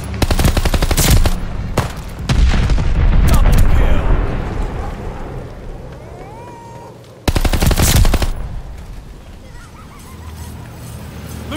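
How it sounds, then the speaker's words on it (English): Dense, loud machine-gun fire and explosive booms from a Call of Duty: Vanguard match during a friendly bombing run, rapid bursts at the start, a lull with a rising whine, then another heavy blast and more distant firing. "Friendly bombing run inbound."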